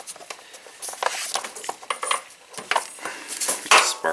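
Loose bolts just removed from a 150cc go-kart engine cover clink and tap against each other and metal in short, scattered, fairly quiet bursts, close by, with no voices.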